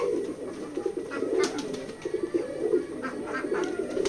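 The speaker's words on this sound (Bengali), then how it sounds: "এই কবুতরগুলোকে দেখতে পাচ্ছেন" A flock of farm-kept pigeons in Keshabpur, Jessore, coo continuously in overlapping low, throaty calls, close and fairly loud, with faint rustles and scratches among the birds.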